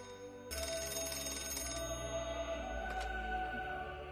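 A telephone rings with a bright, buzzing electronic trill that starts abruptly and continues steadily, with a faint extra chime partway through.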